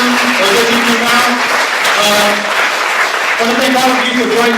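Audience applause after a film screening at a film festival, dense steady clapping from a crowd with tonal voices threading through it, sustained for a few seconds.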